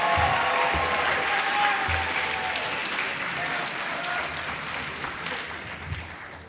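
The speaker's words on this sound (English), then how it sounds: "How about another round of applause for them?" A school concert audience at a rhythm ensemble performance applauds in a loud, sustained burst that tapers off gradually, with some voices mixed in.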